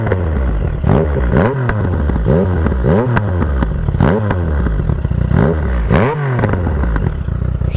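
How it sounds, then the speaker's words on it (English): A motorcycle fitted with a modified exhaust baffle revs up close by. The loud throbbing engine rises and falls in repeated sweeping blips, about one each second, over a constant idle rumble. "So I'll give it a little bit of a rev up, not too high, and then I'll do the higher rev,"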